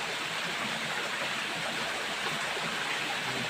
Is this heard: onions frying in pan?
no